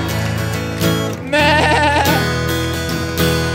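A large audience at a live show imitates a sheep bleating together, a loud, sustained wavering crowd "baa" that swells and fades over a few seconds amid music.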